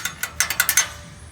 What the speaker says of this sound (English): the rattling noise you're hearing is that thing just,